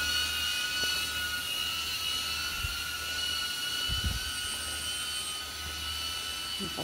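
A drone flies overhead near the trailhead of the Mānoa Falls Trail by a landslide area, giving a steady high-pitched whine that holds throughout, with low wind rumble and a few faint thumps beneath it.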